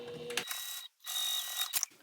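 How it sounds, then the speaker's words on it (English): A sewing machine top-stitches down a fabric pocket. Two runs of steady mechanical whirring and stitching are split by a brief pause, fairly close, with no talking. "Take that over to the sewing machine and just top stitch down that pocket with the seam allowance given in the pattern."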